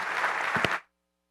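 Church congregation applause in a devotional service, a brief burst of clapping lasting under a second that stops abruptly into silence.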